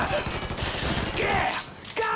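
Bursts of gunfire from a shooter in the crime game Mafia III, several loud cracks overlapping in a dense volley with a brief gap near the end, set against game ambience.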